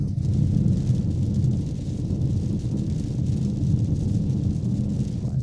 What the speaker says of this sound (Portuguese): Os barulhos da chuva reduzem um pouco o que normalmente ouvimos.